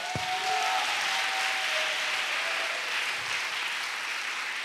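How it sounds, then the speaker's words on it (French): Dense, steady applause from a crowd at a national missionaries' retreat in Côte d'Ivoire fills the space, continuous and fairly even in loudness, with no talking. "Acclamation."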